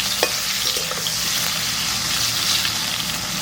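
Brinjal fries in mustard oil in a village kitchen, giving a steady, close sizzle with occasional stirring scrapes and no talking.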